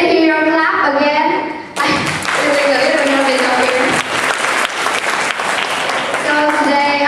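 Audience at an English speaking contest final breaks into loud, close applause after a short stretch of speech, steady dense clapping that carries through to the end, with a few thumps and taps mixed in.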